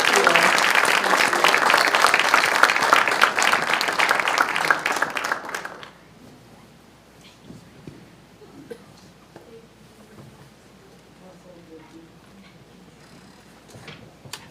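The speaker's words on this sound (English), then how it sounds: "Can we have another warm round of applause for Dr. Deena González?" An audience at a Chicano Studies symposium applauds warmly for about six seconds after a talk, the dense clapping cutting off abruptly and leaving a quiet room with faint shuffling.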